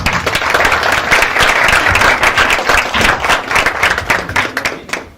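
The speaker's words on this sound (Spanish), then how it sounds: "un aplauso para nuestros invitados" An audience at an evening talk event welcomes guests with applause, dense steady clapping from many hands for about five seconds before thinning out at the end.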